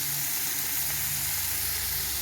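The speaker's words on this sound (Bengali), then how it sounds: "এবারে পেঁয়াজের সঙ্গে টমেটোটা ভালো করে ভেজে নেব" Sliced onion and tomato fry in hot oil in a pan, giving a steady close sizzle with a constant hiss and faint bubbling, heard alone without talk.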